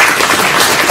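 An audience at a school board meeting applauds with dense, loud clapping that fills the whole brief moment, no voices on top.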